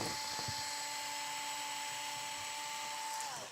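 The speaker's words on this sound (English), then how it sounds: "we're going to take out these couple screws here" A small power screwdriver or drill whines steadily and close by while taking screws out of a Losi LMT RC monster truck, stopping at the end.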